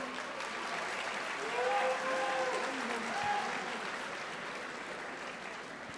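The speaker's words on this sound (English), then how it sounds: "Round of applause, please." Audience applause at a book launch, a moderate round of clapping swelling briefly in the middle then tapering off, heard from a distance in a reverberant hall.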